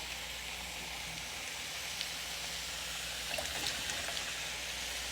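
Fries dropped into hot grease give a soft, steady sizzle and crackle, with a slight burst of bubbling around the middle, faint and without speech.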